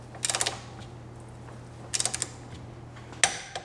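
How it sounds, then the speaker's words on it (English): A torque wrench ratchets in three short bursts of rapid clicks while tightening axle bolts on a Dodge Grand Caravan, close and crisp against a low steady hum. "Grab your torque wrench, and these now need to go up to 65 foot-pounds, which is 88 Newton meters."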